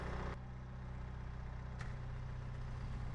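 A farm tractor's engine runs steadily at idle, a close, even low rumble that holds throughout with a couple of brief clicks over it.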